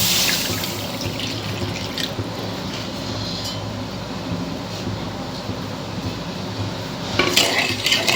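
Water pours steadily into a kadai pan for sugar syrup in a chocolate recipe, a continuous close splashing stream lasting several seconds, ending with a light clink of cookware. No one speaks.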